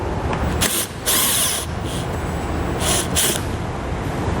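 A power tool with a 10mm socket drives out an underbody panel bolt on a 2019 Alfa Romeo Stelvio, sounding in several short bursts of whirring over steady shop noise.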